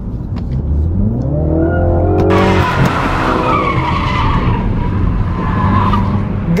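A Mini Cooper John Cooper Works in sport mode is driven hard, its tires squealing in long, loud, wavering squeals over a close, busy engine drone.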